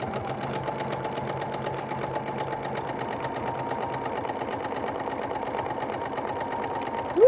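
A sewing machine stitches a bunny applique in a steady, even, rapid hum that keeps up the whole time at moderate loudness.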